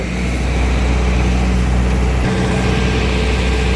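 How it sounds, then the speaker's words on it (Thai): Kubota combine harvester engine running hard at raised revs, a steady loud droning roar with heavy low rumble, close and continuous with no talk. "เร่งเครื่องขึ้นไปหน่อยหนึ่งครับ"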